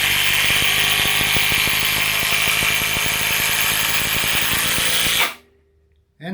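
A Hilti cordless impact driver sinks a screw with a loud, close, continuous rattling hammer-and-whine for about five seconds, then cuts off abruptly into near silence.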